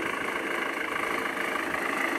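A boat or vehicle motor runs steadily to recharge batteries out in the bush, giving a continuous, fairly loud droning hum with no pauses through the whole stretch.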